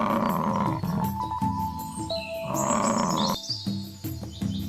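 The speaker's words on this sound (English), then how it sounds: "Buffalo." A buffalo grunts in a busy wild setting, with deep repeated grunts layered among other animal calls and chirps, loud and close with no pauses.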